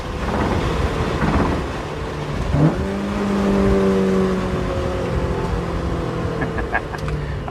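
A Honda Civic Si EM1 with VTEC pulls hard through first and second gear, its engine note climbing in a loud, steady drone that carries through the whole stretch, with a gear shift partway through.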